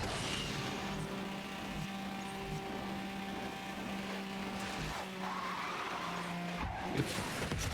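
A race car in Asphalt 9: Legends drifts through a corner with sustained, loud tire squeal over a droning engine, the screech holding steady across several seconds before easing as the slide ends.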